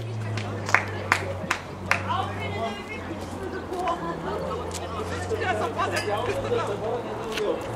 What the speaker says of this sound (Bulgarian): нашите аплодисменти!